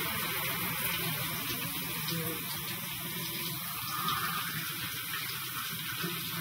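Running water from a tap, a steady hissing flow with a faint spattering texture, heard close and fairly quiet, continuing evenly without a clear change.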